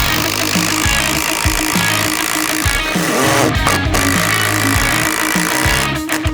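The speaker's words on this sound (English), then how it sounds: "we have here a framing lag that is 8 inches long that is going to drill into my tabletop" A loud power drill whirs and grinds steadily, its motor pitch dipping and surging in repeated pulses as an 8-inch framing lag screw bores into a wooden tabletop.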